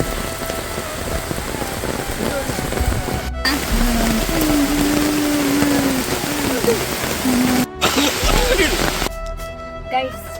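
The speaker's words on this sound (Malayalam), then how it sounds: "പക്ഷെ നല്ല മഴ പെയ്തു" Steady heavy rain hisses and patters on surfaces up close at the Kooveri hanging bridge in Kannur, with a few voices and a tonal call heard through the downpour.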